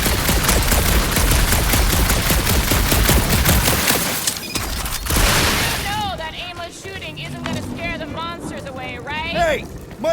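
Gunfire in the Guardians of the Galaxy game, a dense rapid volley of loud shots and impacts for several seconds, giving way to scattered sounds and speaking voices.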